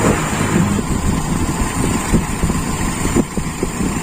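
Toyota Kijang carburetor engine running at steady rumbling idle-to-light throttle with small irregular blips, fairly loud and close, no voices.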